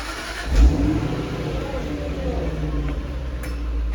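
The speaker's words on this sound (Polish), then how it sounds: "idę z tyłu sobie nagrać wydech, możesz go przepalić" Exhaust of a Jaguar XF SV8 with its V8 engine, a sharp rev blip followed by a steady rumbling idle, heard close from behind the car, with a person speaking over it.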